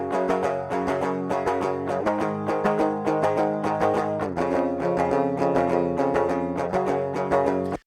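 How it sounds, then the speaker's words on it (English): Electric guitar recorded as a DI track through EMG 83 and 81 active pickups on an LTD Evertune, playing a continuous pop punk rhythm part of dense, tightly picked chords that stops abruptly at the end. "let me play you DI tracks for the same part that are tracked on EMG 83 and 81s with my LTD Evertune"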